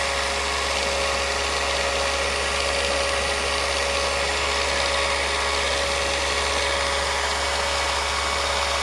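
An old movie projector motor runs with a steady, loud hum and constant whirring drone, holding an even level throughout with no change in pitch.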